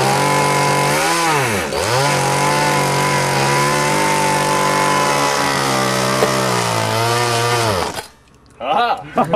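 A small gas weed whacker engine with a faulty carburetor runs loud and close, its whine rising and dipping with throttle changes, then cutting out near the end, leaving brief faint sounds.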